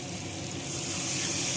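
Water poured into hot oil in a frying pan while cooking katla fish curry, producing a steady, close hiss of sizzling that swells slightly louder toward the end, with no talking.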